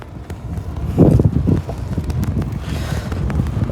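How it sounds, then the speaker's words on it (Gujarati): Gusty wind on a road in Gujarat at nightfall buffets the microphone with a low rumble, swelling to a stronger blast midway, then settling into a steady rush. "પવન ચાલુ છે."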